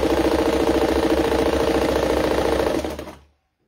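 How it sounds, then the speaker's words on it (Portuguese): An old sewing machine stitches in a steady, fast mechanical rattle that runs for about three seconds, then slows and stops, with no talking over it. "só queria mostrar um pouquinho para vocês costurando nessa máquina"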